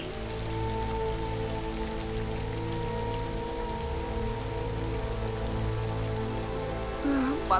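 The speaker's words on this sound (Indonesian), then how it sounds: "Empat 40 hari dan 40 malam tiada hari tanpa hujan." Steady rain falling on a surface, a continuous hiss with a low sustained tone underneath, and a brief higher sound near the end.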